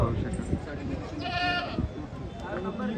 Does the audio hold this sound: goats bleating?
yes